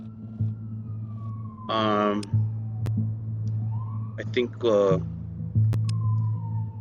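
Defense sirens in the Mane City video game wail in rising and falling sweeps over a steady low hum, with a couple of sharp clicks. Someone talks briefly over them.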